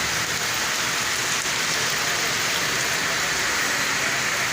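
A constant downpour of heavy rain, thick and hissing, close by and unbroken throughout.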